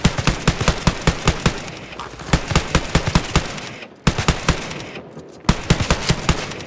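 Shotgun fire in a first-person shooter game: loud, close shots in quick bursts of several rounds, broken by two short pauses before firing resumes.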